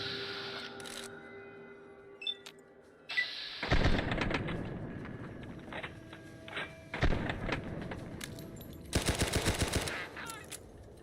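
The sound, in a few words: submachine gun firing in Fallout New Vegas video game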